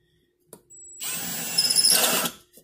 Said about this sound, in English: then we're going to drill right in the center of it